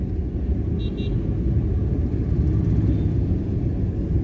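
A car engine revs and rumbles steadily while the car is driven through a market during a driving lesson, heard from inside the cabin, with a faint horn toot early on.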